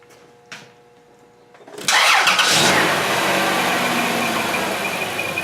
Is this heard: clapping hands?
no